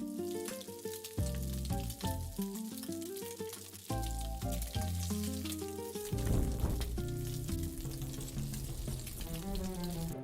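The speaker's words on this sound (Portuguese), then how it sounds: "A gente vai pegar o nosso bacon e vai preparar ele direto na grelha para ele fritar." Bacon fries directly on a grill with a steady, dense sizzle lasting throughout, partly covered by prominent melodic background music.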